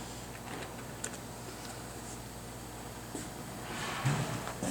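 Keys tapped on a computer keyboard to enter a short command at an old DOS machine controlling an Asymtek 402G fluid dispenser, a few soft, sparse clicks over a quiet room hum.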